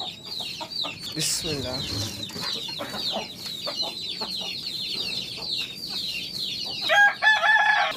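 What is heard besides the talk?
roosters clucking and crowing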